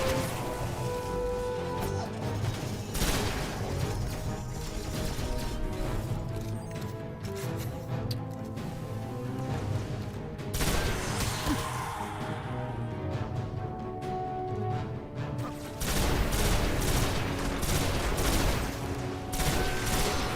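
Rapid bursts of Stranger's Rifle gunfire in Destiny 1, steady and fairly loud throughout with crashing impacts and mechanical clatter mixed in, pausing briefly before resuming.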